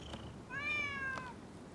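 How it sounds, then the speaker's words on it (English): Stray cat in the video game Rise of the Ronin gives a single soft, drawn-out meow, faint against quiet background ambience. "Who'd have thought a stray cat would wander in?"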